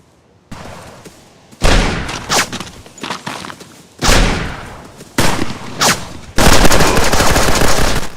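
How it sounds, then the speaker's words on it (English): Bursts of gunfire from the PvP survival video game Lifeless: several loud, sharp volleys of shots, some in rapid automatic strings, separated by brief quieter gaps with no talking. "Hearing gunshots and footsteps from other players will be vital for survival."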